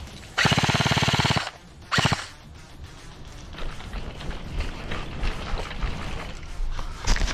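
Airsoft light machine gun firing a long, loud continuous burst, followed by a shorter second burst, during a milsim game outdoors; quieter rustling and distant activity continue afterward.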